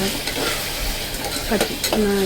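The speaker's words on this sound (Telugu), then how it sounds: "వీటినన్నిటినీ కూడా వేసుకొని బాగా కలుపుకోవాలి పచ్చివాసన పోయేంత వరకు" Carrots, beans, onion and soaked dried peas are stirred in a frying pan, giving a steady close sizzle with scraping stirring strokes and no talk.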